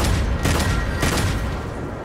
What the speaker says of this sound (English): The handgun was like a machine gun, but now it's a single gun or a single shot.